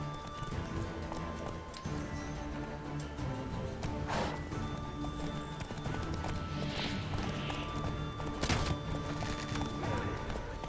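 Horse hooves thud continuously at a gallop, with a whinny and some clattering knocks in a dense The Witcher 3: Wild Hunt game mix.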